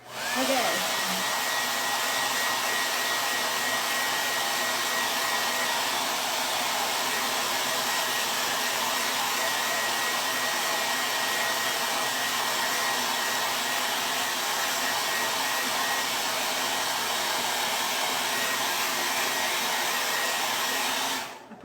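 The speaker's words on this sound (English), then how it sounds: "I had to blow dry this so that it doesn't get smeared." A hair dryer blows steadily on a decorated Easter egg, a loud continuous whoosh running for about twenty seconds with no talking.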